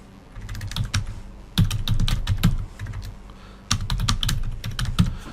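Rapid bursts of typing on a computer keyboard, close and clear, with keys clattering in quick runs separated by short pauses.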